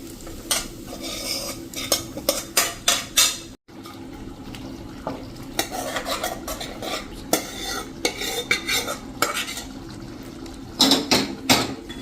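Tempering is stirred into cooked dal in a pot for a Bhavnagar-style dal khakhra, with close, repeated metal spoon scrapes and clinks in quick bursts over a steady low sizzle.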